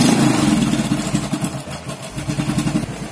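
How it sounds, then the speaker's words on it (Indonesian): A motorcycle engine idles close by, its steady mid-pitched throb pulsing in a rapid regular rhythm with slight clatter, running alone without talk. "Ya murup ini kok. Motornya murup Mas."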